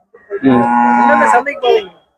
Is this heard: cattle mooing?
yes